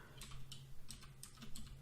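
Keys tapped on a computer keyboard, a quiet, uneven run of light clicks over a steady low hum, close by and without speech.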